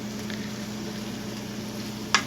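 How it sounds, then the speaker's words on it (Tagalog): Salmon frying in a pan for sinigang, giving a steady, close sizzle with a soft crackle throughout and one brief sharp clatter near the end, with no voices. "kailangan ko munang iprito yung salmon"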